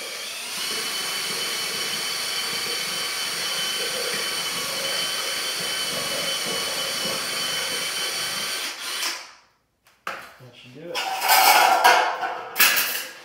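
A drill-driven paddle mixer whirs steadily while blending 20-minute hot-mud drywall compound in a bucket. The motor runs continuously for about nine seconds, stops briefly, then revs in short bursts.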